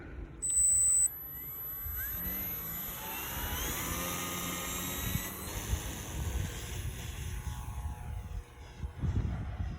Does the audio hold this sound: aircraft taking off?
yes